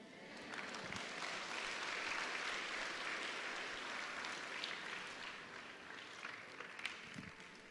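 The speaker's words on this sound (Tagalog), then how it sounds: "yun lang yung palakpak ng nananampalataya." Believers in a church break into sustained applause, a dense, fairly distant wash of clapping that holds steady for several seconds before easing off.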